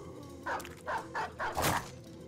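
A dog barks in the video game Battle Brothers, giving four or five quick woofs in a row, moderately close against a quiet game background.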